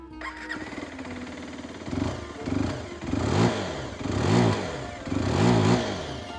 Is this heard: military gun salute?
no